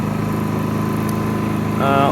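A Zipper ZI-STE 2000 IV inverter generator runs with a steady, fairly quiet mid-pitched engine hum and faint rhythmic pulsing, a brief tonal rise near the end.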